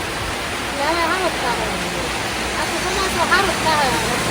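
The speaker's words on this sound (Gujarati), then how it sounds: "ચોમાસાનો પહેલો વરસાદ આવ્યો" Heavy first-monsoon rain pours steadily in a continuous broadband wash, with a voice speaking over the downpour throughout.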